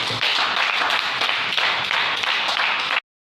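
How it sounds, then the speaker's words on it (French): An audience at a clinic event in Parakou, Benin gives a loud, dense burst of applause for three seconds, clapping close and sustained before cutting off abruptly. "Applaudissez Fiat."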